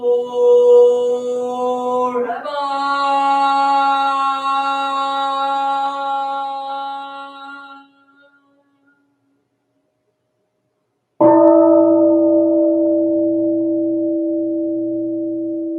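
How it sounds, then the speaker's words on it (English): A Zen temple bell at a Sunday service in Ann Arbor, struck twice with clear metallic tones that hum on and slowly fade, separated by a few seconds of silence. "Here is the after sound of the bell."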